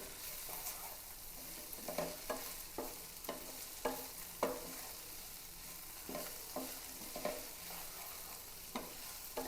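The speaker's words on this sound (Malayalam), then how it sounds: "അല്പം ക്രഷ് ചെയ്ത കുരുമുളക് പൊടിയാണ് നന്നായിട്ട് മിക്സ് ചെയ്യാം" Okra stir-fry with crushed black pepper being stirred in a pan, a spoon scraping in a steady series of distinct strokes over a soft, continuous sizzle, close and alone with no voices.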